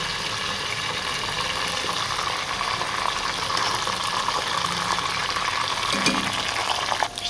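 Green chilies and peas hit hot oil in a frying pan for a matar pulao, giving a steady, loud, close sizzle that holds evenly throughout with light stirring clatter and no talk.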